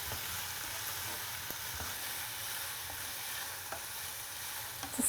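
Egg frittata mixture with red and yellow bell peppers is stirred in a pan, giving a steady, even sizzle with faint utensil movements throughout and no talking.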